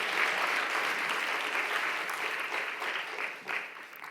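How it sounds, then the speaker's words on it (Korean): A church youth-group audience at a Sunday service claps steadily, a dense wash of applause from a modest crowd that swells briefly near the end. "박수로 한번"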